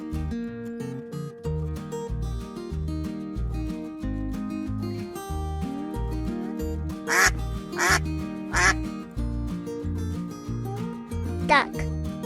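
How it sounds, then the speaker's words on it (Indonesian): Several short, nasal duck quacks come in bursts, loud and close, over a constant rhythmic music bed, with a quick cluster followed by one later quack. "duck"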